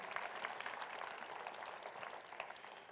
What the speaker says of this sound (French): Si c'est votre témoignage, applaudissez fort